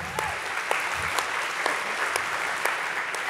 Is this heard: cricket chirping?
no